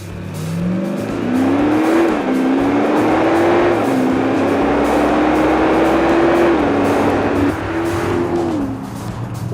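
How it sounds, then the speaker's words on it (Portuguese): Audi SQ5 3.0 V6 TDI diesel from 2015 accelerating hard, its exhaust roaring loudly and continuously, with the engine note climbing steadily through successive gears and brief dips at each shift. "A aceleração incessante, acompanhada por um ronco de escape que pouco ou nada tem de diesel"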